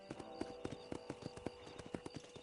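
Horse hooves clip-clopping at a steady trot in the Red Dead Redemption video game, a regular run of close, clear hoof strikes over faint background sound.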